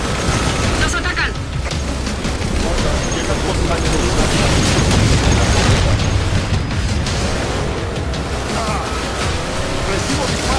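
Dense, continuous Halo 4 combat: rapid gunfire crackling over booming explosions and rumbling vehicles, loud throughout, with voices shouting in Spanish underneath.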